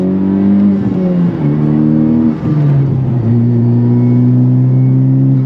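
A tuned Honda Civic Type R engine revs in second gear with a strong, steady mid-pitched drone that dips and climbs a few times as the revs shift. It is loud and close, with no voices.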